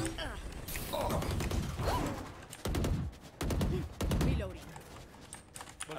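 Rapid bursts of video game gunfire from a mobile battle-royale shooter, several loud volleys with short pauses between them, heard under excited talk from players.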